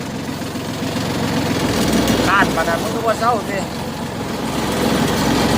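A Kubota 21 hp tractor engine runs steadily while weeding between sugarcane rows, a constant low rumbling drone throughout, with someone talking over it in the foreground.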